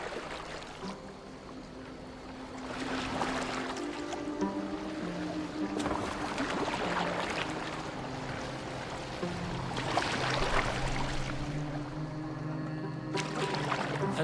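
A longship glides over water in Assassin's Creed Valhalla, with a soft, continuous wash of water against the hull and swelling splashes, steady and moderately quiet under a low tonal backdrop.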